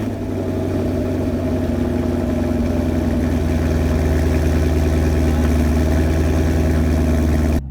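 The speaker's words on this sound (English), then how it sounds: "I'm going to show you the cold starts" A Chevrolet Camaro SS V8 idles after a cold start with its exhaust valves open, a loud, deep, steady rumble up close that holds evenly before cutting off abruptly at the end.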